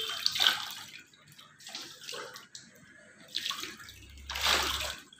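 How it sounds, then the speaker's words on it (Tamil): Water poured and splashed while washing a client's feet during a beautician pedicure, intermittent bursts of splashing and trickling at close range, fairly soft, with a low hum near the end. "இப்போ நல்ல தண்ணி வச்சு வாஷ் பண்ணிடுவோம்"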